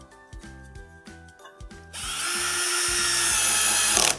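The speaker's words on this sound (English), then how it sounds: "I'll go ahead and I'll put the second screw in." A power drill drives a screw into a wire management tray on a VertDesk, first a few short stuttering pulses, then a continuous loud, close whine that runs until the end.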